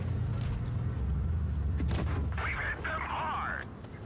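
A single heavy cannon boom goes off midway during a World of Tanks Blitz battle involving a Tiger 1 heavy tank and an SU tank destroyer, with engine rumble and someone commentator talking throughout.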